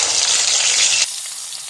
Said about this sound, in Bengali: আমি এবার মাছ ভেজে নেব।